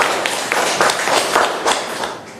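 Children clapping their hands in a classroom, a steady run of quick, bright claps at moderate volume lasting a couple of seconds.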